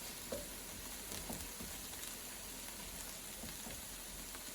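Ninety percent lean ground beef sautés in a pot for college game day chili, giving a continuous close sizzle with soft crackling and a few light stirring taps.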